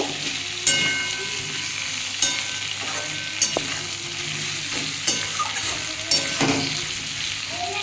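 Tomato and ginger paste fries in a pan for a vegetarian soybean dish, a steady close sizzle broken by sharp clanks and scrapes of stirring every second or so, with no talking.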